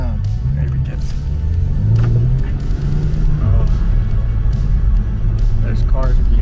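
A BMW M car drives on a race track during a track day, its engine droning and revving in a steady loud rumble from inside the cabin, with people talking over it.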